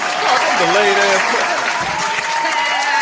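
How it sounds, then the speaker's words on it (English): Applause sound effect triggered by a button plays as a dense, loud burst of clapping that runs steadily throughout, while a person talks over it. "You got to push the button for claps"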